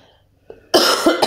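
A harsh cough bursts out after a moment of near silence, repeating in quick, loud spasms close by.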